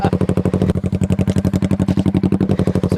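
A Yamaha Vixion motorcycle fitted with two exhausts blips its throttle, giving a quick string of loud, rhythmic engine pulses close by.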